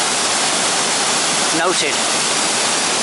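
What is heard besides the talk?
waterfall on Llanberis footpath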